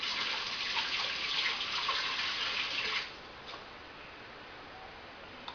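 Filtered water pours into a bowl for tofu batter, a steady hissing splash for about three seconds that then stops, followed by quiet room tone with a couple of faint clicks.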